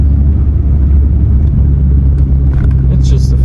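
Renault Twingo engine droning while driving, a steady low hum and road rumble heard from inside the small car, fairly loud and constant with faint higher clicks near the end.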